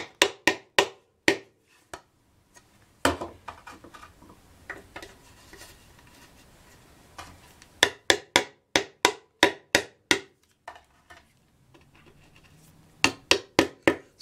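Screws are driven into wood while building a DIY router table for a small trim/palm router. Crisp, close ticking clicks come in quick bursts with short pauses between runs.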